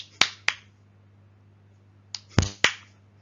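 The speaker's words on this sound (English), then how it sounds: "you can, clap out a stress pattern and get someone else to say what it is" Sharp hand claps tap out a word stress pattern: two quick claps, a pause, then a short group of three, crisp and close against a low steady hum.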